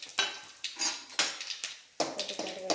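Mustard seeds and dried red chillies pop and crackle in a hot pan, sharp irregular bursts close by mixed with metal stirring clatter, no talking.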